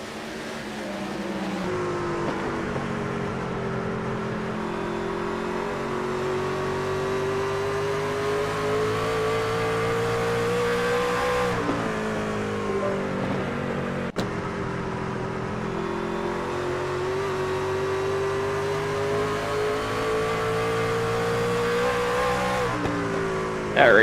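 An onboard race car engine in iRacing at Indianapolis Raceway Park drones loudly and continuously, its pitch rising and falling through gear changes and corners, with a commentator's voice faintly underneath.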